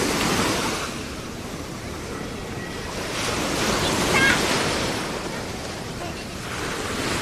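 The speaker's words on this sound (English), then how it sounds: "Unrelenting the waves. Just keep coming, man." Ocean surf rolls onto a beach near a campground, a continuous roar of breaking waves that swells around the middle, with wind buffeting the microphone throughout.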